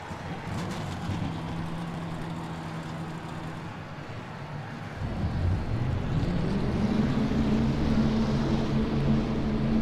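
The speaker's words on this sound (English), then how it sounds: "Drivers, start your engines." Simulated stock car engines fire up for the 2001 Pop Secret Microwave 400 at Rockingham in the NR2003 racing game, a steady droning rumble that swells louder about halfway through as more engines join in, with no voices.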